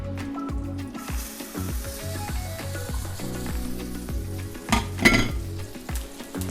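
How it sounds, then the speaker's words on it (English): Steak au poivre sizzles steadily in a hot pan, a continuous close frying crackle with clinks of utensils and a sharper burst of activity near the end. "Want to make sure you hear that sizzle as soon as it hits the pan."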